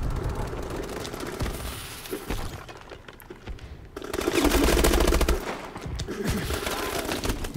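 Assault rifle gunfire in Call of Duty comes in loud, rapid automatic bursts mixed with shattering impacts. A brief lull sits in the middle before a heavier sustained volley.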